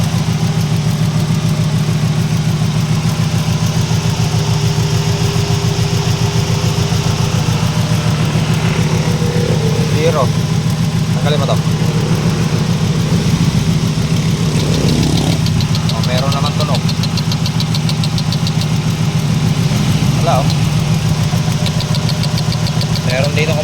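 Car engine idling with a misfire from zero compression in cylinder four, a steady low rumble with an uneven throb and faint knocking, interrupted by a few brief clicks and clatters.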